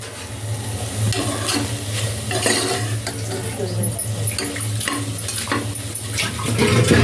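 Goat tripe curry bubbles and sizzles in a pan as it is stirred, a dense continuous frying hiss mixed with utensil scrapes and pan clatter close to the listener.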